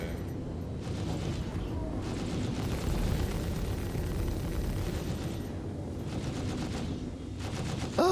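Sustained enemy gunfire in a video game: dense, overlapping bursts of automatic fire and rumbling blasts pour in continuously, pulsing in intensity with brief lulls before surging again.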